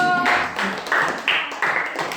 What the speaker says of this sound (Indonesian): Tepuk tangan untuk Leo.